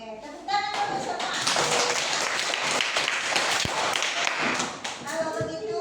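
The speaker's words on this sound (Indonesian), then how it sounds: "Oke, tepuk tangan dulu semua." A classroom of children claps together for a classmate, a dense, close patter of hands lasting several seconds, with a few young voices audible at the start and end.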